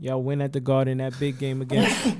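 A voice talks about a basketball game at the Garden, then a single sharp sneeze bursts out near the end, close to the mic.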